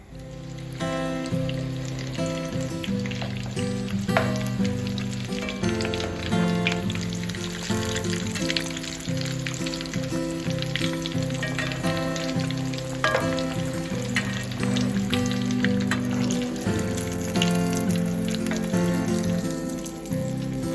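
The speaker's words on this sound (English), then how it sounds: "we're going to lower our Scotch eggs into the pan. Allow them to cook until golden brown" Scotch eggs frying in a pan of hot oil, a steady dense sizzle with crackling pops running continuously and evenly at close range, no voices over it.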